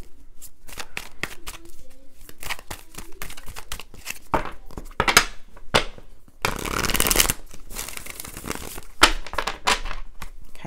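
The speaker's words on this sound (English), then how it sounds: "I'm just going to go ahead and shuffle the soul cards" Tarot cards are shuffled by hand in repeated riffling bursts, close and crisp, with short pauses between rounds and a longer, denser flurry partway through.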